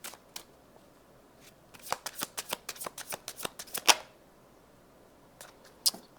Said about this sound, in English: I need to get all the cards out first.